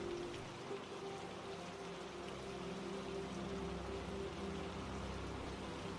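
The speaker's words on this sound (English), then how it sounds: "The now soft sounds of the rain felt soothing" Soft light rain falls steadily after a passing storm, a faint, even hiss of patter with a low hum underneath, continuous and distant without any voices.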